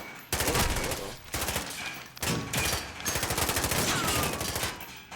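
Rapid automatic gunfire in Call of Duty rattles in long loud bursts, with brief gaps between the volleys and dense overlapping shots throughout.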